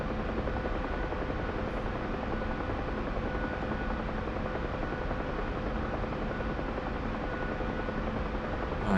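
A Huey helicopter flying near a hospital landing pad, its rotor and engine making a steady, loud, unbroken drone with a constant mechanical hum.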